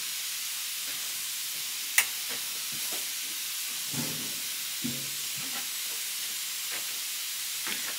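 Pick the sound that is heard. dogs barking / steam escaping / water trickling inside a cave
steam escaping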